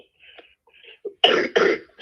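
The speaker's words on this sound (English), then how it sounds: "I guess my cough is still coming back, is still here" One person gives a couple of soft throat noises, then two loud, close, raspy throat-clearing coughs in quick succession.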